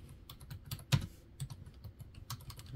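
Rapid keystrokes clatter on a computer keyboard, irregular taps with one louder key press, fairly quiet and close.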